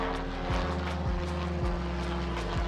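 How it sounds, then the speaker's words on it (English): Small helicopter flying overhead outdoors, a continuous rhythmic rotor chop and engine drone heard at moderate distance, steady throughout with no talk. "Ooh, a little helicopter above us, sorry about that."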